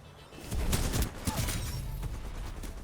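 Gunfire from AI soldiers battling on a Titanfall map, a quick cluster of shots in the distance, fairly faint and somewhat muffled, followed by a scattered, lingering rattle of fire.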